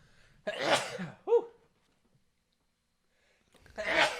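A single sharp sneeze up close, followed by a brief short vocal sound, then a pause and another burst of breathy noise.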